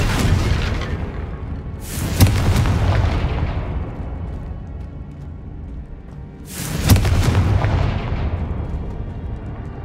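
Two loud fiery explosions from the Confringo fire spell in the video game Hogwarts Legacy, each a sharp boom followed by a long rumbling decay, the second about five seconds after the first, with no talk.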